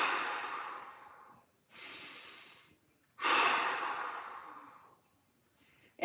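Two big, slow breaths taken during a mobility stretch in a fitness class, each a long airy inhale-exhale surge, close and fairly loud, separated by a short pause, with a third starting at the end.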